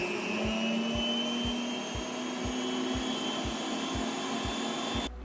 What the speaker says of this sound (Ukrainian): Все перемішала, вимикаю міксер.